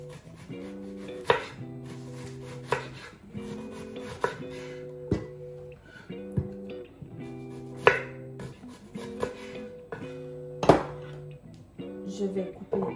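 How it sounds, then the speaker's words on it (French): A knife chops cherry tomatoes and onion on a board, with regular sharp taps in quick clusters, close and clear, while a voice talks throughout. "Là, je vais couper les tomates cerises,"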